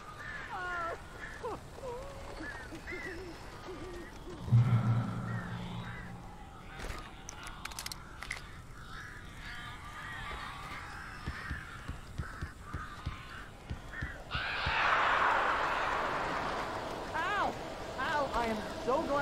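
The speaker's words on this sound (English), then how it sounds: "These birds are weird." Crows caw harshly in the Alan Wake video game, several rasping calls scattered over a long stretch with wingbeats and eerie ambience, while characters talk in between.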